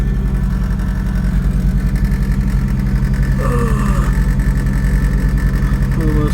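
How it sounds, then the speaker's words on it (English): A Ford Focus with 180,000 miles and an idle air control valve problem idles steadily after starting, a loud, close, pulsing low engine drone, with someone talking briefly over it. "we're gonna get it fired up"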